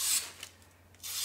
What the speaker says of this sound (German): ich nehme hier mal so einen kleinen Post-it-Zettel, schauen wir mal, wie scharf das Messer ist.